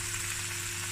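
Meat braising in a pot for a Cape Malay pumpkin bredie, a steady, faint hiss and gentle bubbling sizzle with no change over its short length.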